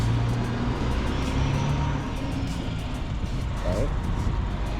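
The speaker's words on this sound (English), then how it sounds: "I'll wait for the truck." A truck rumbles past with a low engine drone and road noise that swells and holds, heard outdoors during a dog training session while a voice talks over it.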